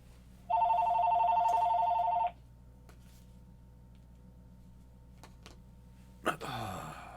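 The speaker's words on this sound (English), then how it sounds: "Hey, look, the house phone rings." A house telephone rings once in a clear electronic warbling burst near the start, then the room falls quiet apart from a faint hum, and a brief clatter comes at the end.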